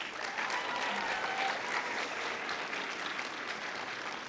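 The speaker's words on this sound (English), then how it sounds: "So we want to give them a really big round of applause as well." Audience applause at a comic convention cosplay contest, a steady wash of clapping heard from a distance throughout, moderately faint with no voices over it.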